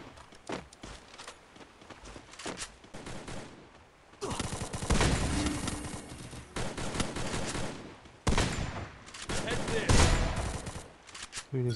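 Bursts of SKS rifle gunfire in the Free Fire battle royale game, loud volleys separated by quieter stretches with footsteps and a voice talking over the action.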